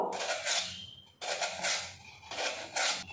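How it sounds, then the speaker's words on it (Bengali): Peeled potato grated lengthwise on a hand grater straight into a bowl of water, three long rasping scraping strokes, close and steady, with no talking. "এই জলের মধ্যে আলুটা আমি লম্বালম্বিভাবে গ্রেট করে নেব"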